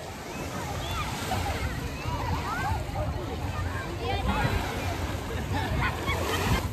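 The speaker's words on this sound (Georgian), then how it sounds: "ესეც ოკეანე" Ocean surf rolls and washes in a continuous broad roar, with steady splashing and sloshing close by and no clear breaks between waves.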